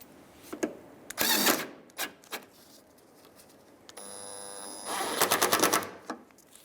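A 10mm bolt being tightened into a bumper bracket on a 2015-2019 Hyundai Sonata with a power tool, giving a short burst of rapid mechanical clatter followed later by a longer buzzing run, with small clicks in between.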